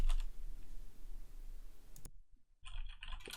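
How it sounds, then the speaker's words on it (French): Fingers typing on a fairly noisy mechanical keyboard picked up by a microphone, close clicks muffled under steady background hiss, then briefly cut to near silence before a sharper burst of key clatter. "je pianote sur mon clavier mécanique, qui est assez bruyant il faut le dire"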